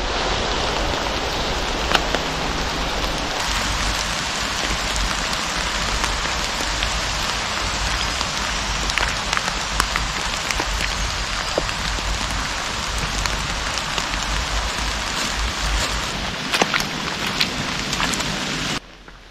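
Steady rain falls throughout along a hiking trail in the hills, a dense, even hiss of drops on surfaces with scattered louder patters, continuous and close, no voices.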